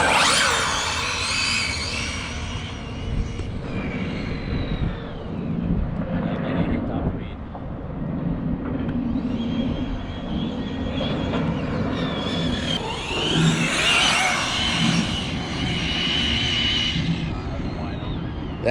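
An Arrma Typhon TLR 6S electric RC buggy makes a full-throttle top speed run, with a loud whining motor surge that rises and falls against wind noise and a brief spoken voice.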